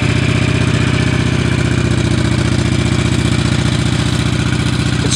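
A Honda Shadow Phantom motorcycle with its stock exhaust idles close by after starting, a loud, steady, low rhythmic thump with a faint mechanical clatter, holding an even, slightly high idle throughout.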